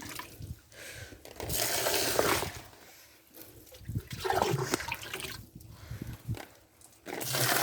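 Liquid fertiliser is scooped and poured out for cucumber plants on a farm, giving repeated splashing, gurgling water sounds in uneven bursts, moderately close, with some rustling and faint background noise.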